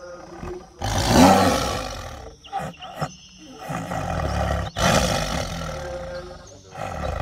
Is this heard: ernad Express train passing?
no